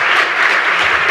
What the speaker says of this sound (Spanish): Un aplauso para don Carlos Cuesta